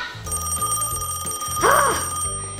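A telephone rings during children's pretend mechanic play, its repeated electronic ring sitting over a steady musical background with no talk.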